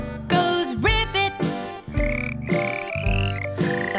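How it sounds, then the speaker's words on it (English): A frog croaks in a children's nursery rhyme: a run of loud, rhythmic ribbit calls over cheerful music, close and clear. "The frog goes ribbit."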